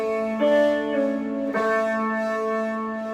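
Slow guitar riff with pull-offs, a few plucked notes ringing out one after another and sustaining, close and clear with no talking.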